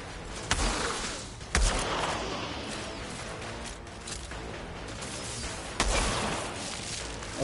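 Several sharp sniper rifle gunshots crack out at irregular intervals over a busy, noisy background, with no voices, in the co-op shooter game Outriders on PS5.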